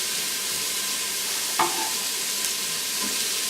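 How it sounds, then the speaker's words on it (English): A medium onion stirred into hot bacon drippings in an Instant Pot, a loud steady sizzle with a brief spoon scrape partway through, close and without talk. "I'm going to just plop in there and give that a good stir."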